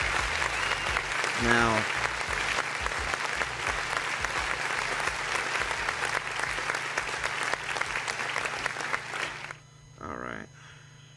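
Studio audience applause closing out a talk show for a guest, dense and steady for about nine seconds before cutting off abruptly, followed by a brief word from a voice.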